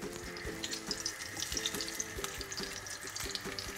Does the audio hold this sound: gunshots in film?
no